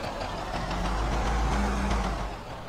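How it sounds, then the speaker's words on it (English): Car engine idling and running steadily in the zombie survival game Project Zomboid, a continuous low rumble at even loudness throughout. "I'm starting the engine while I'm out."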